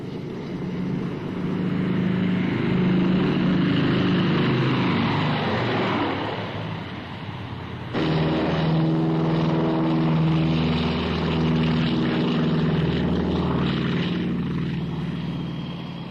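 A propeller aircraft takes off, its engines roaring loud and close in a steady drone, dipping briefly and then surging again with a throbbing, pulsing tone.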